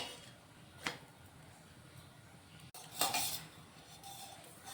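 A paratha handled on a hot iron tawa: two distinct clinks of a utensil against the metal, the second louder and followed by a short rustling sizzle, over a quiet background hiss.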